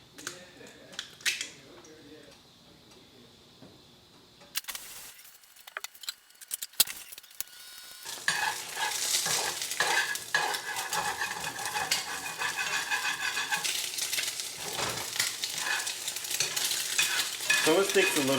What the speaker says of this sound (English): Using olive oil, just doing one egg. We're gonna heat it up, of course, turn it on, and crack the egg.